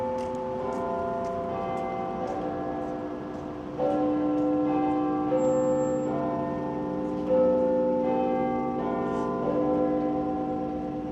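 London church bells ring out at 4:45 in the morning, their sustained, overlapping tones ringing with rich overtones as new strikes arrive every few seconds, resonant and moderately near.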